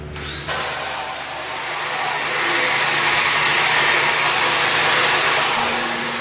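Steady, loud broadband rasp of a power wire brush scouring the corroded aluminum roof of a pop-up camper, running continuously and building slightly in intensity, with no talking.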